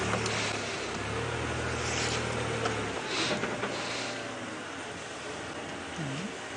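A safari vehicle's engine runs steadily as it drives through the bush, a low continuous rumble with some rattle and rustle, moderately close, while a voice briefly talks over it.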